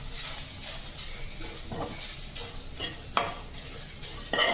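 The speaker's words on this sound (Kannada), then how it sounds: "ಸಣ್ಣ ಉರಿ ಇಟ್ಕೊಂಡ್ಬಿಟ್ಟು ನಾವು ಕಡಲೆ ಹಿಟ್ಟು ಇದ್ರ ಜೊತೆಗೆ ಹುರ್ಕೋಬೋದು" Gram flour and chopped vegetables roast in a pan over low heat, a soft continuous sizzle broken by repeated stirring scrapes and a couple of sharper spatula knocks near the end.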